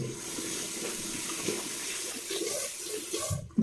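Tap water runs steadily into a sink during a nighttime skincare routine as the face is rinsed, a continuous close splashing hiss that stops abruptly at the very end.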